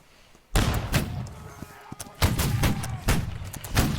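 Gunfire from a realistic military video game, heard as a string of loud, sharp shots in irregular bursts after a brief quiet start, with a voice speaking in the background.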